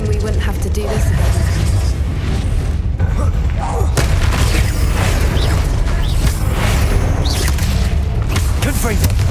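A Confringo fire spell blasting in Hogwarts Legacy, a dense, continuous roar of booming impacts and rumbling mechanical effects layered with game sound and background voices.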